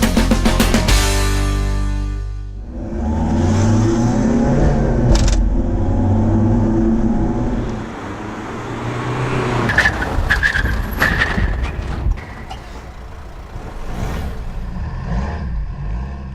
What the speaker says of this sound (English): we showed both vehicles doing an emergency stop